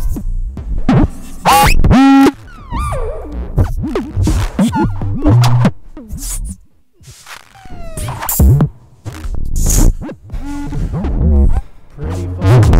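An Elektron Analog RYTM MkII drum machine flooded with MIDI CC messages spits out erratic glitchy bursts, chirps, pitch sweeps and throbbing buzzes in irregular clusters, loud and close with short silent gaps and no speech.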